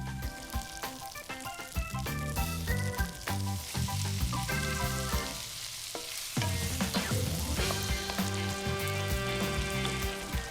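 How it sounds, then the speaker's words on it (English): Tomatoes spit and sizzle as they fry in a pan with softened, golden shallots, a steady crackle under prominent tonal background music throughout. "Time for the tomatoes. They spit a bit because of the liquid, but that's fine."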